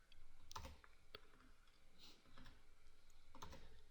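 Keyboard typing in bursts, a few quick clusters of keystroke clicks separated by pauses, close and fairly quiet over a soft room hiss, with no voices.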